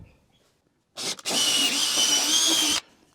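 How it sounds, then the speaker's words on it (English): A power drill bores a pilot hole through a straight-grained 2x4, with a brief stuttering start and then a steady, close high-pitched whine lasting under two seconds before stopping abruptly. "So I want to drill through, I'll do a pilot hole, otherwise pretty sure it'll split."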